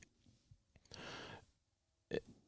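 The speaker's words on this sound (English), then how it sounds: "sorry, got a burp there" A man's single short burp, close and fairly soft, in a quiet indoor setting with faint breathing around it.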